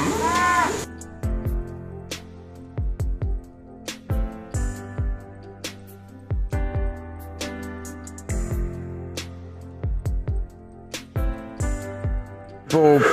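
Cattle lowing on an integrated farm holding about seventy head including calves: repeated deep, drawn-out moos from several animals, close and loud, overlapping one another with short pauses between calls.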